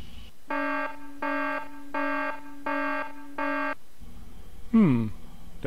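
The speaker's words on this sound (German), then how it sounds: "Der Alarm läuft noch, okay." An alarm in the video game Floyd sounds as five identical electronic buzzer blasts in an even rhythm, loud and harsh. A short rising-and-falling tone follows after a pause.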